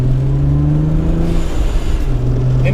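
A race car accelerates hard on the MSR Cresson track, its engine droning loudly and steadily from inside the car, the pitch climbing, dipping briefly near the middle, then climbing again.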